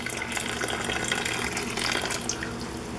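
Water from a canning pot is dumped out in one steady, close, splashing pour that runs for a few seconds, with no talking.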